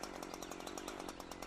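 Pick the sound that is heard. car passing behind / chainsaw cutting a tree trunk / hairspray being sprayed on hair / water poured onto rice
chainsaw cutting a tree trunk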